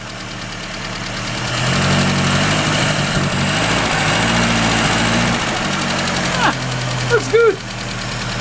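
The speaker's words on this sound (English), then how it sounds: "Let's give it a little bit of rev." A restored Austin Mini engine idles and then revs, a steady close mechanical drone that swells and holds, with a few brief knocks near the end and a voice speaking briefly.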